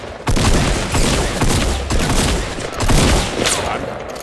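Loud sniper and rapid gunfire in Fortnite fills the clip with repeated, overlapping sharp cracks and booms, a dense burst of shots that keeps going without pause.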